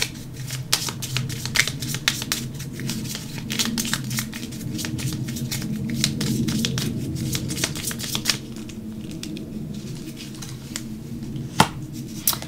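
Oracle cards shuffled and handled in a steady run of soft riffling, flicking slaps lasting the whole stretch, close up, with no talking and one sharper snap near the end.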